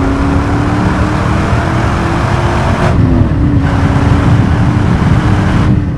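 A 2000 Pontiac Firehawk with a 5.7 engine and six-speed manual pulls hard on a test drive, its loud, steady engine drone rising in pitch across a gear, with broadband road and wind roar throughout and no talking.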